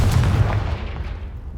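A Confringo fire spell blasts in Hogwarts Legacy, a loud booming burst up front that rolls off into a fading rumble over under two seconds, with no talking.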